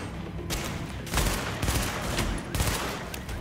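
A burst-fire gun in Tom Clancy's The Division on PS4 fires three loud, sharp volleys spaced about a second apart, with scattered gunfire between them and no speech.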